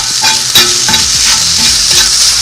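Green chard sauce is stirred into warming taco filling in a pan, a loud close sizzle with rhythmic scraping strokes of the spoon throughout and no speech.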